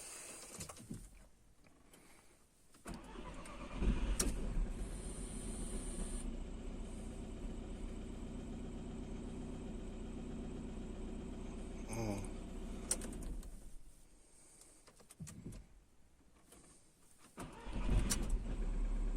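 A Seat Alhambra 2.0 TDI diesel engine, hard to start after standing, cranks and catches, then runs with a steady low rumble, quiet at first, with a brief mechanical whine midway and a short lull before revving again.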